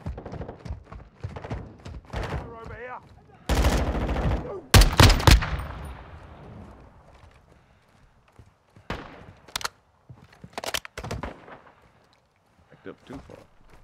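Gunfire in the video game Call of Duty MWII DMZ comes in sharp bursts and a few loud single shots, with sizable gaps between them, and a player talks between the bursts.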